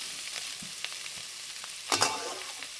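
Boiled potato pieces sautéing in a pan for sabudana khichdi give a steady soft sizzle, with a brief louder burst of frying and stirring near the end and no talking.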